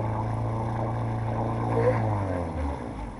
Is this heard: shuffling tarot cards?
no